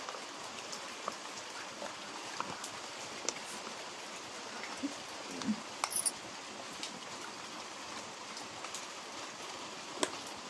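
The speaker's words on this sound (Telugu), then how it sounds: "చూస్తున్నారా వాన ఎలా పడుతుందో?" Steady rain hisses evenly throughout, with scattered sharper drips and taps landing close by.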